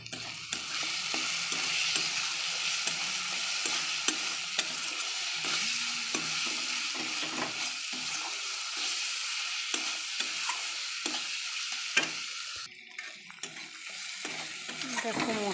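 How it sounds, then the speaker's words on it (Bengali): Spice paste for a chicken dish sizzles steadily in a pan while being stirred, with scraping strokes throughout and a short pause near the end. "দেখো মশলাটা বেশ ভাজা ভাজা হয়ে এসছে।"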